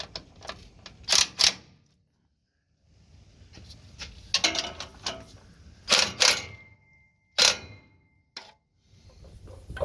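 Motor mount bolts being tightened on a 1972 Pontiac 350 in a GM A-body, giving sharp metallic ratchet clicks and clanks in short bursts with quiet gaps, close and fairly loud.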